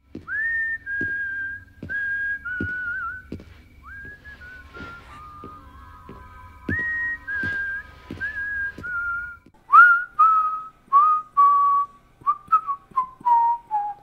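A slow, eerie whistled melody from the horror film Jeepers Creepers, whistled by The Creeper, clear and close, with sustained notes and gaps, ending in a run of short, quicker falling whistles.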